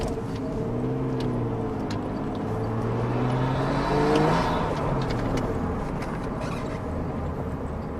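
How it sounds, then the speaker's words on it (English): A Nissan Skyline R33, converted from automatic to a 5-speed manual, idles with a modified exhaust, giving a deep steady rumble that swells briefly with a blip of revs and settles back down. "As you can hear, we do have the modified exhaust. Got a little bit of that rumble."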